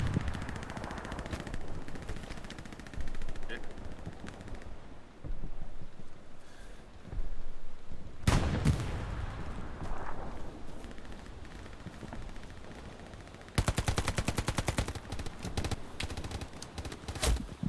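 Gunfire rattles in the video game Hell Let Loose, with bursts of automatic fire and sharp single shots coming in irregular clusters, some close and loud, others more distant, over a rumbling battlefield.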